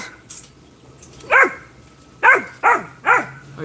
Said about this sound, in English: They're so loud, barking in my ears.